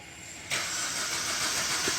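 A Maruti Ritz diesel engine cranking without catching: a sudden loud, steady mechanical whir kicks in partway through and continues without a settled idle, recorded up close.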